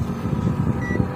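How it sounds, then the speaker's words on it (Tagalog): A multimeter's continuity buzzer sounds while testing a shorted transistor in a 21-inch Samsung CRT TV, a short continuous electronic buzz heard alone up close. "Buzzer lang po, buzzer."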